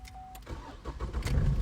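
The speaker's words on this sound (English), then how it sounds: "I'm just going to fire it up." A manual van's engine is cranked and fires up in a garage, with a short starter whine giving way to a loud, rough running rumble that settles toward idle.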